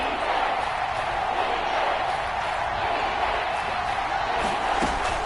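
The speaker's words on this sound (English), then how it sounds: "The crowd getting into it as we come up on a big third down." A stadium crowd roars steadily in a video game football broadcast as a big third down approaches, a dense, continuous wash of cheering at moderate level with no distinct voice standing out.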